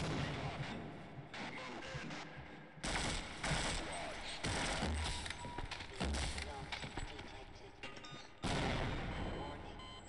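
Heavy tank cannon blasts and gunfire in the video game Half-Life, a series of loud booming bursts with mechanical clatter repeating over about ten seconds amid game background noise.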